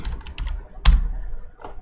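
Close computer keyboard typing with a handful of irregular key taps, one noticeably louder stroke in the middle and faint taps after it.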